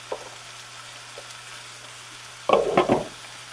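Breakfast food simmers in a pan with a faint, steady sizzle under low room hiss, then a brief louder burst of stirring and clatter near the end.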